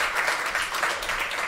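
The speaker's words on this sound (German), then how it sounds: "ein großartiger Applaus bitte für unsere Barmäuse hier im BKA-Theater" An audience in the BKA Theater applauds, a steady, dense wash of clapping filling the room from start to finish.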